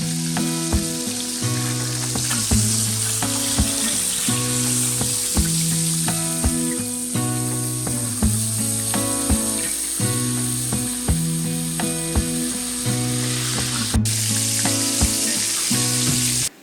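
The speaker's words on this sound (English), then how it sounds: "an iron skillet heated up with just enough oil to kind of coat the bottom. It's nice and hot." Food sizzling in a thin coat of hot oil in a heated iron skillet, a steady broadband frying hiss running the whole time beneath loud, rhythmic background music.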